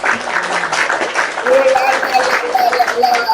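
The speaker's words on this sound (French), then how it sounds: "Je vais applaudir pour le Seigneur" Hands clap for the Lord in a church setting, a steady patter of applause mixed with voices speaking over it.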